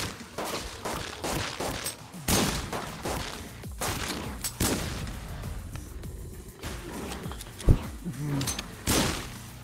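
Bursts of gunfire crack out repeatedly over a busy, noisy soundscape in the VR game Monster Rampage on Quest 2, with several sharp loud shots standing out near the end.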